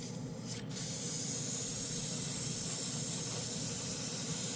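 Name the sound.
Swallowtail side feed airbrush spraying to blow out paint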